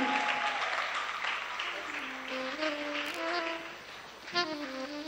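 Audience applause at a church anniversary concert, a steady wash of clapping throughout with faint sustained music or voices underneath and a brief louder swell near the end.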